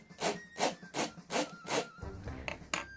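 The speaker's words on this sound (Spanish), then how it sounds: "O la espiral del cuaderno, que yo creo que es de metal." Metal spiral binding of a notebook rubbed by hand in a quiet room at home, giving five regular close scraping strokes, then lighter rustling and a final short scrape.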